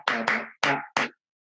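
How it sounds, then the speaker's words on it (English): Hands clap along to a gamelan rhythm, four sharp, close claps in an uneven pattern, two quick ones, a pause, then two more, with silence after. "I want you to just clap along with me."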